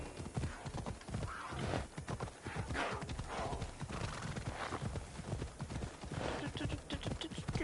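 Horse hooves clip-clopping at a steady gallop with a whinny in Assassin's Creed Odyssey, the horse named Phobos, under game music and occasional voices.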